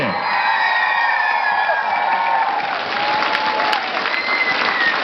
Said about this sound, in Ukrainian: прийміть, будь ласка, під бурхливі оплески